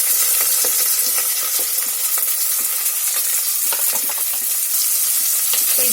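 Fenugreek, curry leaves and shallots fry in a clay pot with a loud, continuous sizzle, crackling pops and occasional stirring scrapes close by.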